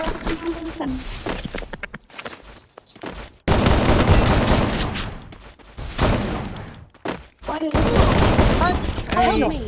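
Gunfire in a battle royale video game: dense, loud bursts of automatic fire and rapid shots fill most of the stretch, with brief gaps, while players talk excitedly over it.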